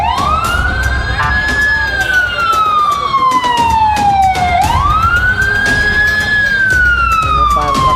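A fire truck's wailing siren sweeps up and down in long cycles as it passes nearby on a busy road, loud and steady over traffic rumble.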